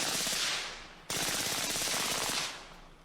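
An AR-15 rifle fires two rapid bursts of gunfire, loud and dense, with a brief gap between them and a fading tail after the second.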